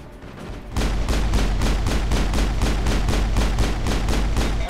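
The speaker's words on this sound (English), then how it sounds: "I don't know what I'm shooting at, but I'm just shooting at it." Rapid, loud gunfire from the video game Mass Effect, a steady stream of close evenly spaced shots bursting in suddenly and continuing without pause.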